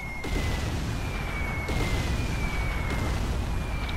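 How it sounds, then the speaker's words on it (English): A breeder reactor blowing up in the Rise of the Reds strategy game, a sustained loud rumbling blast with repeated booming surges and a steady tone running through it, no voices. "the resulting explosion may actually take out the hunchbacks"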